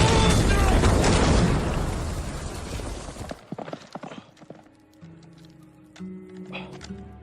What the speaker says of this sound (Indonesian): Setelah itu ia menunggang kuda bersiap mengejar Harnett.